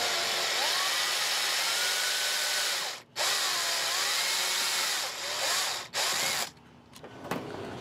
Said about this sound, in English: I'm gonna drill this out and cut this excess off.